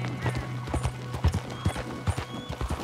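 Rhythmic clip-clop of a horse's hooves on a trail in Red Dead Redemption 2, a steady galloping beat fairly close and prominent over faint background ambience.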